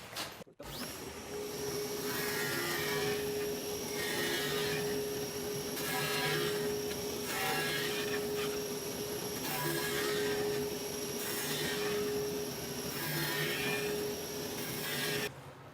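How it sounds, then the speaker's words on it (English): Power sander rounding over the sharp edges of a cedar post on a new deck, a steady loud abrasive whir with a constant tone and rhythmic rasping pulses as it sweeps back and forth, running alone for the whole stretch. "So this sander kind of does a bit of a rough job"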